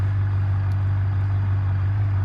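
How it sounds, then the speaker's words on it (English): The 5.5-liter V8 of a 1995 Gavril Grand Marshall Road Sport in BeamNG Drive idles with a steady, deep, low rumble, close and continuous, with no voices. "Listen to that rumble."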